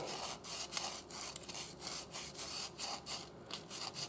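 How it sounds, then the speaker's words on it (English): Abrasive paper rubbed back and forth over a handmade wooden spoon, a steady close scratching with rhythmic strokes repeating roughly every half second, no voices. "I enjoy the sanding, to be honest."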